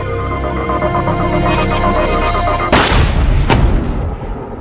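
A staged grassy knoll rifle shot in a JFK assassination reenactment: a loud, sharp bang, then a second crack less than a second later, both over steady background noise with no talking.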